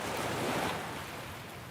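Steady wash of surf rolling in at the beach, a broad hiss of breaking waves with some wind, no voices.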